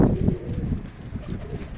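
Pigeons coo low and close against gusty wind noise on the microphone, with soft murmuring sounds coming and going.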